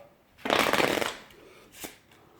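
A deck of playing cards riffle shuffled by hand, one loud close rapid fluttering burst lasting about half a second, followed by a softer short bridge-and-settle rustle.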